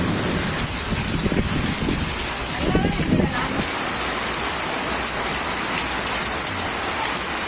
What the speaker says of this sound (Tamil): கோவை மாவட்டம் மேட்டுப்பாளையத்தில் சூறை காற்றுடன் கனமழை பெய்தது